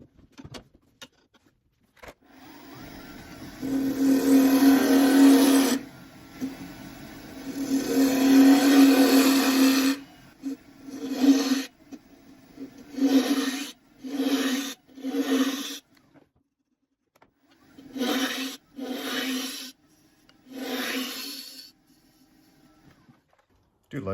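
A wood lathe hollows out a softwood apple box: a motor hum rises under two long cutting passes, then breaks into a run of short, separate cutting bursts with quiet gaps between them.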